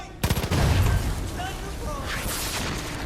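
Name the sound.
explosive barrel shot and exploding in Far Cry 5 video game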